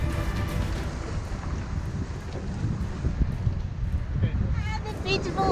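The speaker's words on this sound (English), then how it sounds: "With the wind and the wave size increasing" Strong wind roars and buffets the microphone aboard a sailboat in building seas off Greece, a steady rushing blast with churning water beneath it and a voice speaking under the noise.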